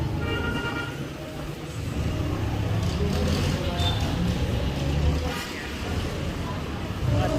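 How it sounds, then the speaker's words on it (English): Busy roadside traffic on Shaw Boulevard in Mandaluyong, with jeepneys rumbling past and car horns tooting, forms a loud, constant wash of engine noise that swells and dips. "expect the background noise to be horns honking and mga jeep na humaharurot"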